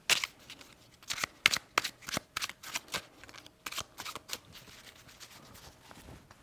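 A deck of 72 monster cards for a solo board game is shuffled by hand, making repeated quick riffling bursts in an uneven rhythm, close and fairly quiet, with no talking.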